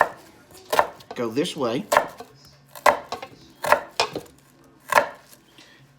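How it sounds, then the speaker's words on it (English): A knife chopping an onion on a board, sharp close chops in a loose rhythm of about six cuts, with someone speaking briefly in between. "chop it all up and use all of the onion"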